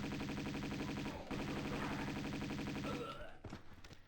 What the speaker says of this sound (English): we want to drop straight in here and start shooting